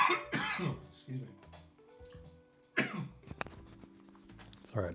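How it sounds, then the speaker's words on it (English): A person coughs forcefully several times, close to the microphone, with throat clearing and brief speech between the coughs. "Sorry, I had to cough."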